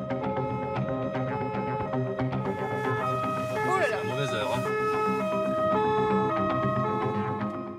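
A French Samu ambulance siren wails continuously as it pushes through traffic, the two-tone pattern cycling steadily, with voices talking underneath.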